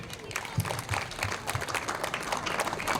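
Audience clapping for the children at a chief guest's event builds into a steady round of applause, loud and even for about three seconds, with a voice faintly mixed in.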